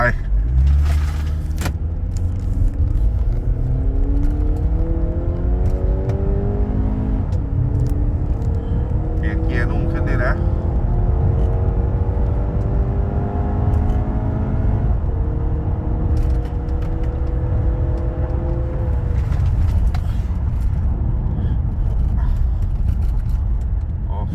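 A tuned Honda Accord G9 with a 2.0 engine and S95 tune pulls hard, its engine note climbing in pitch through several gear changes, heard from inside the cabin with someone talking over it.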